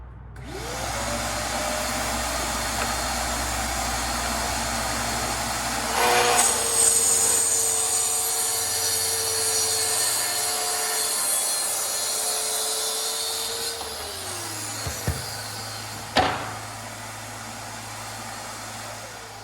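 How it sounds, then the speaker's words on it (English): A track saw trims one edge of barnwood boards: the motor spins up to a loud steady whine, the blade cuts along the board for several seconds, then it winds down, followed by a couple of sharp knocks. "I'm going to use the track saw to trim one side flat"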